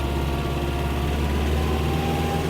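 A Mitsubishi MT-265 mini tractor engine runs at full throttle in fourth gear, a loud, steady, continuous drone close by with no talk.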